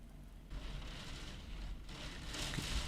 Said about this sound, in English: Can you hear that rain hammering away at the window?